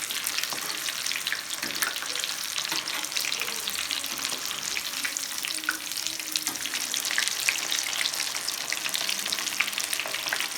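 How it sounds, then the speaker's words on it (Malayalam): Chicken legs fry in hot oil in a pan, a dense, continuous crackling sizzle that stays loud and close throughout, with faint scattered pops and no voices. "നമ്മുടെ ചിക്കൻ ഫ്രൈ ചെയ്തെടുക്കാം. ചിക്കൻ ഫ്രൈ വരുന്നുണ്ട്"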